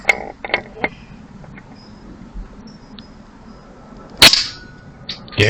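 AP900 air pistol firing at a bead and tin can target, a few sharp cracks with clicks of cocking and handling between shots, close and fairly loud, no speech.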